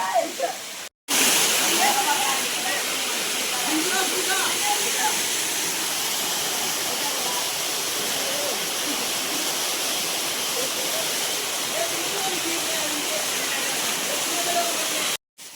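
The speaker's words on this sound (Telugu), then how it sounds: "ఇలా నీళ్ళన్నీ పైనుంచి మనకు ఇక్కడ పైన కూడా కొంచెం మార్గం ఉంది అక్కడి నుంచి పైన ఇలా వస్తూ అలా కిందికి వెళ్ళిపోతాయి" Kona waterfalls pouring down rock, a loud, steady roar of rushing water close by, cut by a short break near the start and running unbroken afterward.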